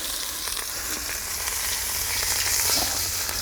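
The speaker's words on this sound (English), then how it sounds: "sealing all the meat, getting ready for the cooking" Meat searing in a hot pan, giving a loud, continuous, even sizzle and crackle of frying that runs throughout without any talk.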